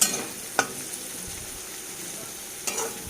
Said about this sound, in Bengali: একে আরেকটু ভেজে নেব।